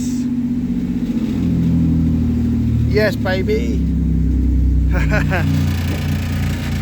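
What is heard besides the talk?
car engine starting and running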